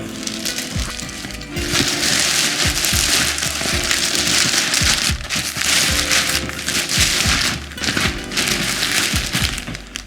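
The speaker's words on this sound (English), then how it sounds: "Lots of bag noise." A large bag crinkles and rustles close by in bursts of crackling plastic, pausing briefly between handlings, with no one talking.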